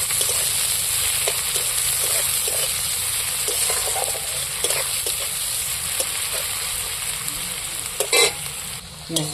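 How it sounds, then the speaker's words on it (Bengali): Chopped onions fry in hot oil as they are stirred, giving a steady close sizzle with light scraping of the spoon and a brief clatter near the end. "কাটা পেঁয়াজগুলো তুলে দিচ্ছি তেলের মধ্যে পেঁয়াজগুলো একটু নাড়াচাড়া করে"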